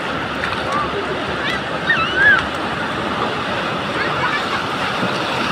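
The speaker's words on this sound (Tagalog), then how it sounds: "Ang laki ng alon" Large ocean waves crash and rush steadily close by on a Batangas shore, a broad continuous roar with a brief louder surge near the middle, while voices talk and exclaim over it.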